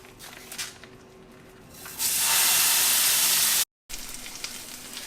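Plant-based Impossible ground meat hits a hot pan with a sudden, loud, close burst of sizzling hiss that holds steady, cuts off briefly, then returns as a quieter sizzle, with faint background kitchen noise before.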